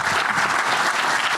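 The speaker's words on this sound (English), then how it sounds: "Round of applause, please." Audience applause at a film career day keynote, a steady dense wash of clapping from a full room filling the short moment without pause.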